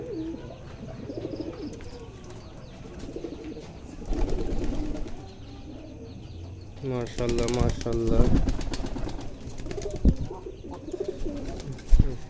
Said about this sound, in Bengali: এই যে এখানে আরেকটা আছে কবুতর, সে ডিম নিয়ে বসে আছে।